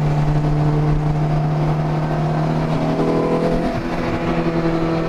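A loud, steady Cosworth-supercharged Toyota FR-S engine drones continuously on a race track, with pitch shifting slightly as it revs, sounding close and unbroken throughout.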